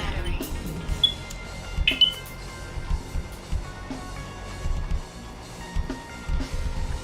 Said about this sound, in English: What is this beep you speak of?